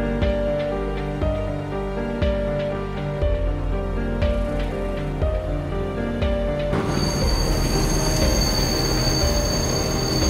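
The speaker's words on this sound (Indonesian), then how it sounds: "Masinis KA 5 Argo Bromo pun melihat sepur hilir tertutup oleh beberapa gerbong dan berusaha melakukan emergency brake." A passenger train's emergency braking in a train simulator game, recreating the Argo Bromo at Kosambi: steady rumbling rolling stock carries tonal squealing from the wheels, which then breaks into a loud, harsh, continuous metallic screech that stays dominant to the end.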